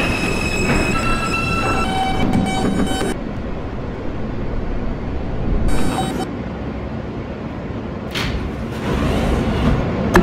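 An M local subway train on the Myrtle Avenue line in a Roblox game, running with steady rumbling and clatter, high tonal whines and wheel squeals in bursts, and a brief hiss near the end.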